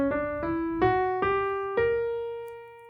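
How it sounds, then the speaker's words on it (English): A B harmonic minor scale played as five clear plucked or struck notes stepping upward, each ringing into the next, alone and fairly loud. "we now have our B harmonic minor scale"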